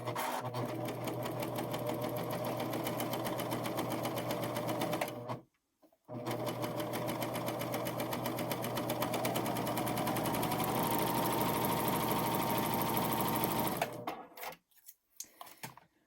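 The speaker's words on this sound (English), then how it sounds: "And then I'm going to start serging here." A Pfaff Admire Air 7000 serger stitches fabric with a steady, rapid mechanical whir. It stops briefly, resumes, and then winds down to a halt near the end.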